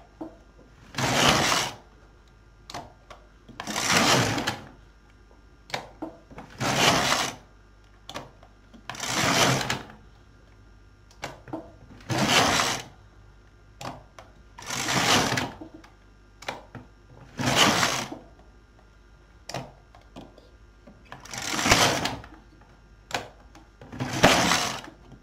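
A knitting machine works rows of a cotton acrylic summer dress, its carriage sliding across in about a dozen regular rasping sweeps, each followed by a short pause and soft clicks, close and clear.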